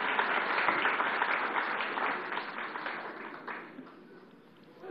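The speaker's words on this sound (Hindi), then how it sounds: "उनको तालियों से स्वागत कीजिए।" A studio audience at a live televised discussion applauding to welcome Delhi Chief Minister Arvind Kejriwal. Dense, even clapping that starts full and gradually fades over several seconds, with no talk.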